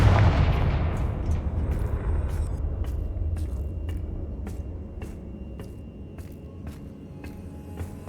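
Confringo blasting spell in Hogwarts Legacy, a heavy explosive boom at the start that rolls off into a long rumbling decay, followed by a series of sharp, evenly spaced cracks and impacts.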